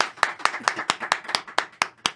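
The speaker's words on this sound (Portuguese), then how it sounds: "Salva de palmas!" A studio audience at a talk-show introduction claps in a steady, even rhythm, about ten crisp close hand claps with no talk over them.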